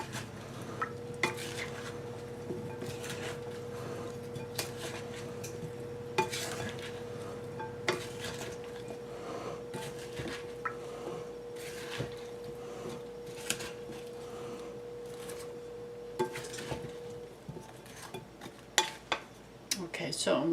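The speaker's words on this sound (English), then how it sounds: "So now let's just give that a toss." Potato salad with parsley flakes tossed in a bowl, heard as soft, steady scraping, stirring and clinking of a utensil against the dish, fairly quiet and close.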